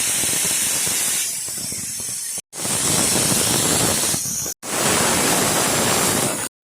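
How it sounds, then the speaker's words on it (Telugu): Water for coconut biryani bubbles vigorously in an open pressure cooker, giving a dense, loud, continuous rushing boil in three close segments separated by brief cuts. "ఇలా వాటర్ అయితే బబుల్స్ వస్తున్నాయి కదా"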